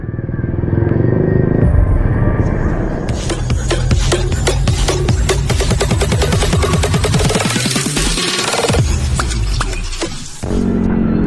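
A loud, continuous roar of heavy road traffic in Tikling, Taytay, with engines rumbling and motorcycles buzzing close by, with a rapid rattling clatter through the middle.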